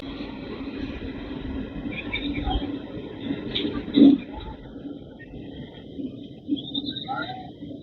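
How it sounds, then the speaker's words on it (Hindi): A train rolls past near a Delhi railway line, a steady low rumble that swells briefly around the middle, with faint voices talking in the background. "ये भाई साहब कौन सी ट्रेन थी पता नहीं चल पाया।"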